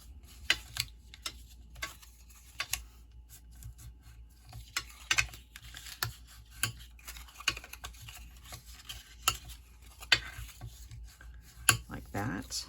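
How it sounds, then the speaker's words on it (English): Soft, scattered taps and rubbing as cardstock pillar card pieces are folded and creased with a bone folder, faint and close, with speech in the background. "And you need a bone folder. And what you want to do is you're going to fold all these in."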